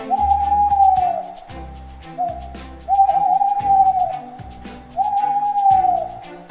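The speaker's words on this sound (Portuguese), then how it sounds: "Coruja." An owl hoots in three long, smooth, whistle-like calls spaced about two seconds apart, clear and fairly close, with no voices.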